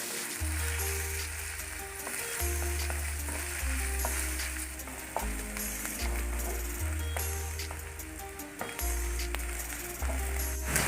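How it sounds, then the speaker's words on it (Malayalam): Ginger sautéing in a hot pan for a Kerala-style ginger tamarind curry, a steady close sizzle and frying crackle with occasional stirring scrapes throughout. "ചൂടായി കഴിഞ്ഞ് നമ്മുടെ ഇഞ്ചിയൊക്കെ നന്നായി ഒന്ന് വാട്ടിയെടുക്കണം കേട്ടോ"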